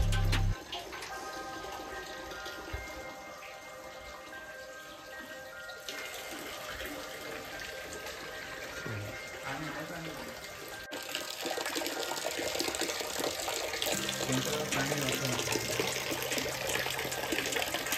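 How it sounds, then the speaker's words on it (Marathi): Water running from a tap and filling a vessel beside a temple water tank holding sacred river water, a steady continuous flow that grows louder toward the end, with faint background voices. "आमचा मित्र बघा कसा पाणी भरतोय."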